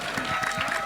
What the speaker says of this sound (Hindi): एक बार जोरदार तालियां बजा दो यार